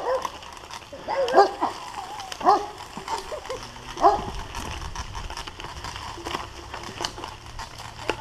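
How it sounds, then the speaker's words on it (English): A big dog barks and yips a few times outdoors during an adventure race, short sharp calls over ambient noise with a person talking nearby. "Hey, big dog."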